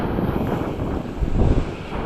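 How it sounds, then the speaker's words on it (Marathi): Strong wind buffets the microphone during summer shore fishing on the Konkan coast, a steady low roaring rush that swells louder in gusts for about two seconds, with no voices. "हवा खूप आहे, हवा खूप आहे।"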